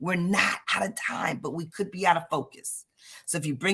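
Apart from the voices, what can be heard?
No distinct noise like a dog, phone or traffic.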